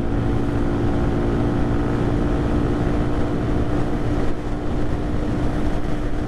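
A 2022 Lifan KPR 200 motorcycle engine held at full revs in sixth gear, a steady loud drone mixed with heavy wind rush throughout, with no speech.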